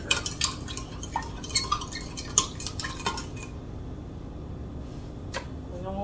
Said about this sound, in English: Just stir in that sugar.